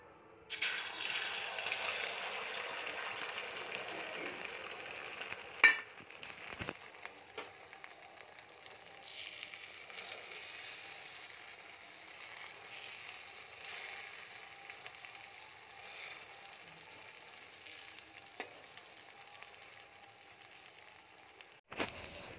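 Eggs fry in a pan in a home kitchen, giving a soft, steady sizzle with occasional pops and clicks that run quietly throughout.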